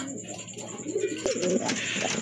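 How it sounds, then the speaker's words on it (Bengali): Pigeons coo softly nearby in low, throaty warbling calls, repeated a few times over light background noise. "এখানে কিন্তু আরেক জোড়া কবুতর আছে"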